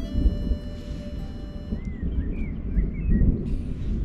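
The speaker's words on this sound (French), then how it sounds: "Et on entend l'orage au loin." Low, rolling thunder from an approaching storm rumbles in the distance near the Château de Castelbouc, under steady outdoor ambience, with a few faint bird chirps.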